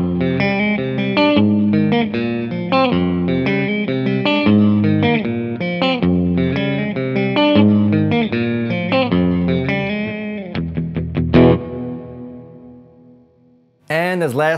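Guitar through the hall reverb mode of a budget reverb pedal: steady strummed and picked notes with a broad, spacious decay, fading into a long ambient tail before a brief, sudden sound at the very end.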